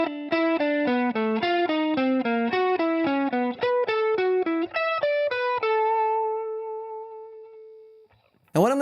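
A distorted electric guitar plays a riff slowly, a steady run of clearly separated notes stepping through a pattern before settling on a long sustained tone that fades out, loud and up close.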